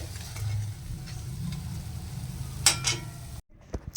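Steady sizzling of mung lentil dumplings frying in oil, with a couple of brief clinks of a utensil near the end.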